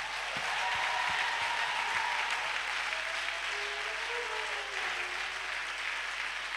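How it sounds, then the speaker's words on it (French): A large concert audience at a choir performance applauds steadily and loudly, a dense continuous clatter of clapping with faint distant voices underneath. "Donnez une offrande d'acclamation pour nos maîtres"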